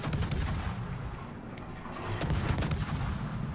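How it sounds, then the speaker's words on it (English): Naval guns firing in World of Warships during a battle near an island against a Des Moines cruiser, heard as a string of loud booming salvos and sharp cracks over a rumbling low battle backdrop, no talk. "So you can just shoot the Des Moines."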